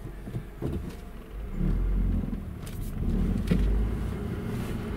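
A 1998 Honda Accord fitted with a manual transmission swap drives along, its engine a low rumble that swells and eases with the throttle, with occasional clicks and thumps from inside the cabin.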